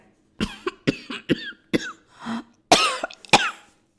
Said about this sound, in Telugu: ముంచుకొచ్చింది దగ్గుతెర